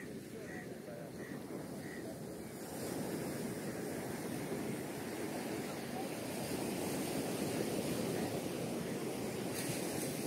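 Surf at Varkala beach in Kerala rushes up and drains back to the sea in a continuous broad wash of water, steady and fairly loud, with wind noise on the microphone.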